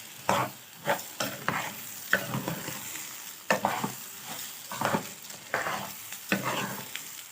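Onions fried in a pan and stirred repeatedly, giving a run of loud, close scraping strokes in an irregular rhythm over a steady sizzle, with no voices.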